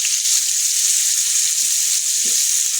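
Boiled garlic cloves fry in a pan, giving a steady, close sizzle throughout with a few faint low clinks, and no one speaks.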